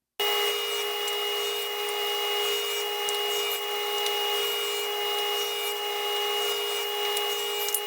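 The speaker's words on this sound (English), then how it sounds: "Next, I'll cut each of these into 6-inch squares." A power saw cuts wood scraps into 6-inch squares, a loud sustained whining buzz that holds steady for several seconds without pause or talk.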